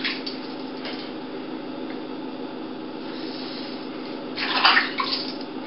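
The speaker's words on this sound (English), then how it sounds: "every time you do a swipe, make sure you dip it in the water because you don't want the hair to build up" A razor is dipped and rinsed in water while a head is being shaved: a steady background hiss of running water, then a brief, louder swishing splash near the end.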